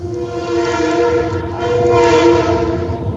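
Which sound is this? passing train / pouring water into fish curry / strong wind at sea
passing train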